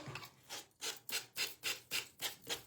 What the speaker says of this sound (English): I got mine at Walmart, and it's just called a gator sander.